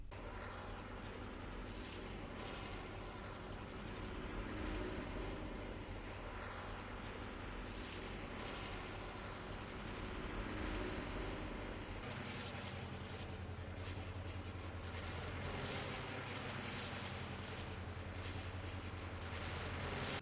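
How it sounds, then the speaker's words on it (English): Leaked engine sound of the Bumble, a new airplane vehicle in the video game Fortnite: a steady, loud propeller-engine drone that holds throughout, gaining a brighter, harsher upper edge partway through, with no talking. "apparently there's a new vehicle in the files called the Bumble, and the sounds have actually gotten leaked for it too"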